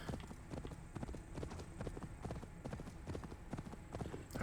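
Horse hooves clip-clop at a steady walking rhythm in the video game Assassin's Creed Valhalla, each strike crisp and close, over a low continuous game ambience.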